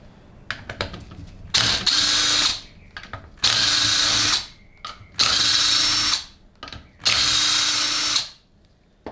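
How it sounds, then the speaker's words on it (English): A power tool whirs in four loud bursts of roughly a second each, backing out the 10mm bolts from a 6L80E automatic transmission valve body of the 2006-2010 type, with quieter clicks and handling noises between the bursts. "Next, remove the 4 10mm bolts that remain."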